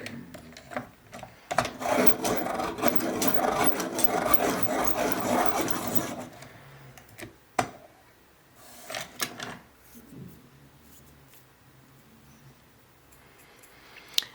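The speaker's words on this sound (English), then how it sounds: "And then we're going to sharpen this again." A cold grey 3 colored pencil being sharpened: a dense, steady rasping grind for about six seconds, then a few short scraping bursts and taps before it falls quiet.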